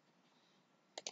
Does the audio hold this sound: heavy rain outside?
no